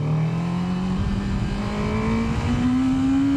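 A Honda CB1000F motorcycle engine rises steadily in pitch as it revs under acceleration, heard up close with a continuous drone and wind roar and no voices.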